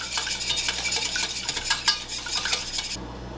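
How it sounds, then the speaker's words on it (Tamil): Two eggs whisked briskly in a bowl with a whisk, a rapid clattering rhythm of wire tapping the sides, close and steady for about three seconds before stopping abruptly. "2 முட்டையை இதுக்குள்ள உடைச்சி இதுக்குள்ள ஆட் பண்ணுங்க நல்லா விஸ்கால இப்படி மிக்ஸ் பீட் பண்ணுங்க"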